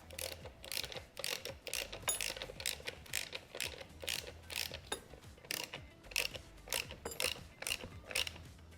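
Wrench work tightening the chain lock nuts and axle nut on a Yamaha TTR-50 motorbike: repeated ratcheting clicks and metallic turning sounds, close and moderately loud, in irregular bursts.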